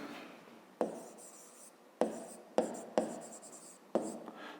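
A pen writes on paper in a quiet room, with sharp taps and short scratching strokes at irregular intervals, about six in all, each fading quickly before the next.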